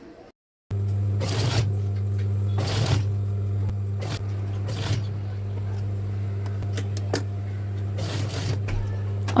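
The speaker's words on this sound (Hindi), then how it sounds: "इसको मैं नेक के ऊपर रख के एक सिलाई लगा लूँगी।" A sewing machine stitches a 1.5-inch fabric strip onto the back neck of a cotton kurti, a steady motor hum broken by short bursts of stitching at irregular intervals.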